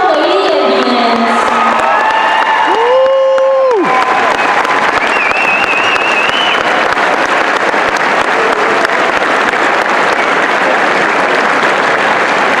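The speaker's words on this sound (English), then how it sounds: "another huge round of applause for the 1994 state champions, Lake Central Lady Indians" A gym crowd breaks into loud applause and cheering for the 1994 Lake Central Lady Indians girls basketball state champions at a 30-year anniversary, sustained clapping and shouts after a brief sustained tone at the start.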